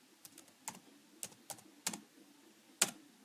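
Keys tapping on a computer keyboard while entering a word into an Excel spreadsheet, a handful of sparse, crisp clicks at an uneven pace, close and quiet, with no talk.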